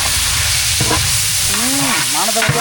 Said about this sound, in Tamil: வெங்காயம் தக்காளி பட்டை நல்லா வதங்கிடுச்சு